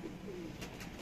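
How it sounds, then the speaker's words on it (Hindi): A purebred pigeon gives a short, soft coo, faint and brief, over a quiet background. "ये देखे रजा भाई, असल में ये नस्ली कबूतर है"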